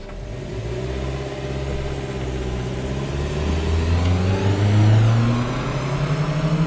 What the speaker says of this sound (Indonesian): memang terasa dari berhenti mobil ini agak berat, tapi akselerasinya tetap positif